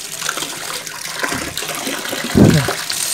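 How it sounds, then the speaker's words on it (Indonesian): Water gushes hard from a tap into a gourami fish pond, a steady rushing wash that swells into a louder burst near the end, with no talking. "Kencang banget airnya"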